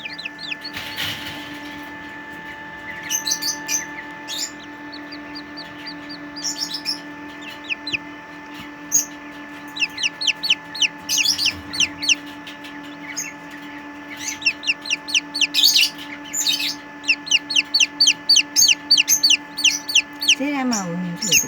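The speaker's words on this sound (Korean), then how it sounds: "세라마 우는 소리도 들리죠?" An 11-day-old Serama chick peeps in repeated high, sharp chirps, sparse at first then in quick bursts, close by over a steady electrical hum from an incubator-like device.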